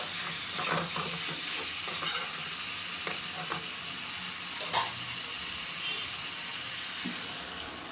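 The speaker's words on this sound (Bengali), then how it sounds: "পটল আলুটা এইভাবে মশলার সঙ্গে ভালোভাবে কষে নিতে হবে।" Pointed gourd (potol) and potato pieces are stir-fried with spices for a Bengali curry. A constant, even sizzle is punctuated by the scrape and tap of a spatula turning the vegetables, close and moderately loud, with no talking.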